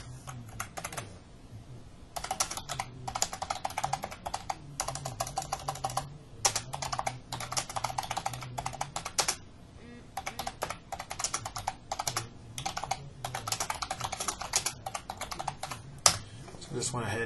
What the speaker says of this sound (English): I just went ahead and typed it out